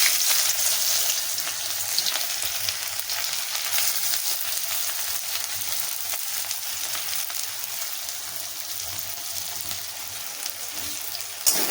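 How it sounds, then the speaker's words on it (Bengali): Green chillies sizzle in hot oil while being fried for a cauliflower mash, a steady bright crackling hiss that stays close and continuous with small spits and pops throughout. "আমি লঙ্কাগুলো দিয়ে দিলাম। বাবা ফুটছে, দেখো লঙ্কাগুলো অলরেডি ভাজা হয়ে গেছে।"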